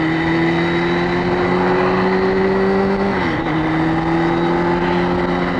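A car engine drones steadily at cruising speed on a cold morning drive, with a brief dip and shift in pitch as the driver pulls out around a slow tractor, loud and continuous throughout.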